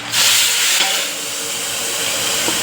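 Tomato gravy hits hot tempering oil with mustard seeds, cumin, asafoetida and curry leaves, bursting into a loud, close hiss that quickly settles into a steady, slightly quieter sizzle.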